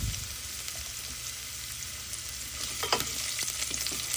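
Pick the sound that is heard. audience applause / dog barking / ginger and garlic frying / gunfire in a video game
ginger and garlic frying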